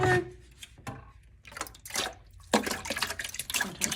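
Water is poured and splashed into a pottery studio sink system in short, irregular bursts of trickling and splashing, close and fairly quiet, with brief gaps between pours and a louder, sustained splash near the end.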